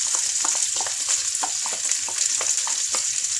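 Chopped pepper, onion and garlic fry in a hot pan with a steady bright sizzle, broken by soft scraping stir strokes roughly every half second, close and loud, with no talking.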